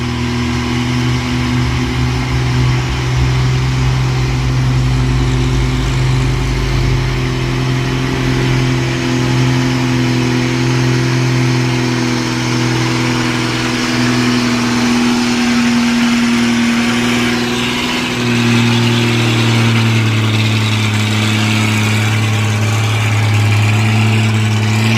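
A Nissan Quester trailer truck's heavy diesel engine idles with a deep, steady rumble, then revs up as the throttle is worked, the low drone rising and swelling loudly, with no talking.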